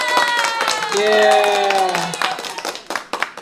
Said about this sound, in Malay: Kita bagi tepukan kepada Nick sebab dia berjaya dapat ni